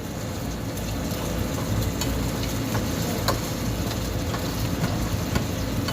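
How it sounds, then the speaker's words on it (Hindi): An egg frying in a pan while lunch is being made, giving a steady, dense crackling sizzle that runs without a break throughout, fairly close and loud, with no talking over it. "अभी हमारा ये अंडा फ्राई कर रहे हैं"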